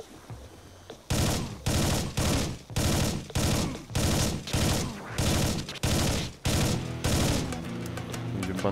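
Gunfire from the video game Collapse as a full magazine is emptied: about ten loud, evenly spaced bursts of rapid shots follow a quieter lead-in, with a steady rumble continuing after the last burst.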